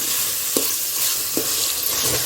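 Tomatoes sizzle in a pan over raised heat while being cooked for chicken biryani, a loud continuous fry broken by a couple of sharp scraping stir strokes.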